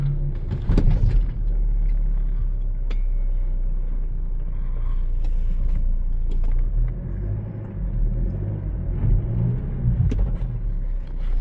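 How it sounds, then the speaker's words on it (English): A Jeep Compass 4x4 crawls off-road over sand. Its engine gives a steady, deep rumble with a few brief rises in revving and scattered thumps, and no one speaks. "We're gonna drive this car over this off-road area now."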